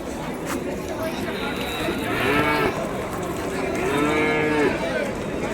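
Cattle mooing at Vaniyambadi native cattle market, with two long lowing calls rising over a steady crowd murmur and people talking nearby.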